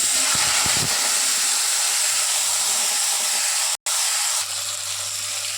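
Lote fish (Bombay duck) dropped into smoking hot oil sets off a loud, steady broadband sizzle close up, with a brief clatter at the start and a momentary cut partway through.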